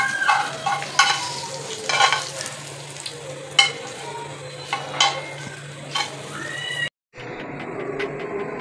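Hot oil tempering sizzles and crackles steadily with some stirring clatter as it is added to chana dal, then the frying noise cuts off briefly before a quieter sizzle resumes.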